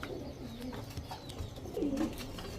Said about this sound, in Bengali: ছাড়াছাড়ি লাইনের এক জোড়া কালো গলা কবুতর